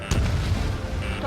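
Missile launch in the combat flight game Ace Combat 7, a loud deep roaring whoosh with a sharp onset, sustained over the short span amid dense aerial battle noise.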